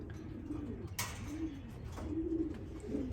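Racing pigeons and Birmingham roller pigeons coo in a loft, a series of low throaty coos repeating in short phrases, close and fairly clear, with one sharp knock early and no speech.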